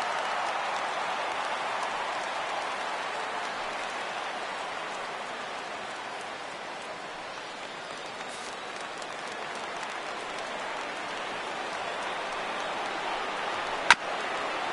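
A crowd of over 39,000 fans on their feet at a Giants vs Dodgers baseball game in the ninth inning, holding a steady, wide roar of cheering, with one brief sharp crack just before the end.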